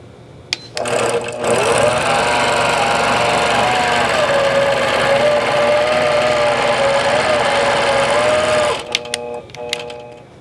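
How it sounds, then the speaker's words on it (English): A quilting sewing machine stitches continuously for about eight seconds while basting along the edge of a quilt, a loud close steady whir with a rapid needle rhythm, bracketed by a few clicks and handling sounds. "So I bring my machine back onto the quilt and I'll baste down this side"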